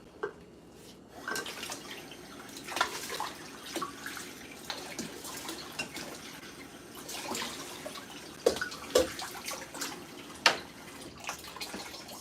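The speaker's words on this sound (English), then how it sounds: "So I'm going to add 4 cups of water." Water is poured into a pot of washed, strained rice in a home kitchen, giving uneven splashes, trickles and drips that come in bursts over a quiet background, close and moderately loud.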